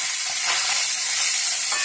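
Tomatoes hitting a hot frying pan with spices for palak paneer, giving a steady close sizzling hiss that fills the short moment with no talk.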